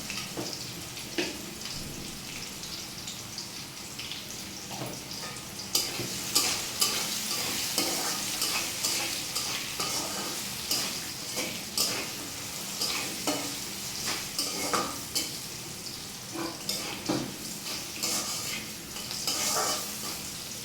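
Potatoes sizzle in a hot pan while a utensil scrapes and stirs them at irregular intervals, close and continuous.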